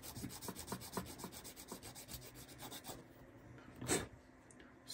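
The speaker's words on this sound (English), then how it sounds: "I'm going to go ahead, sand this side down just a little bit" A model part for a red Ford F-150 build being hand sanded, with quick rhythmic rubbing strokes, close and quiet, then a brief louder scrape near the end, with no voices.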